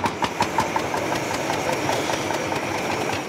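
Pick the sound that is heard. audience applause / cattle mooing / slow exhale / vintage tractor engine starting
vintage tractor engine starting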